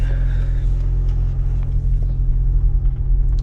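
A 2008 Toyota Prius Grand Touring pulls away, heard from inside as a steady low rumble of the car rolling, loud and continuous, with faint interior rattles and no talk.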